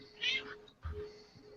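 A large 19.5-pound house cat gives two short meows close by, a higher first cry followed by a lower, briefer one, in a quiet room.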